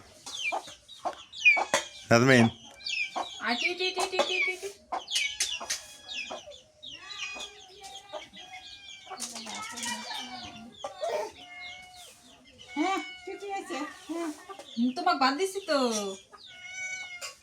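Chickens cluck busily and close by, many birds calling in irregular bursts as they gather at scattered rice while a person talks among them.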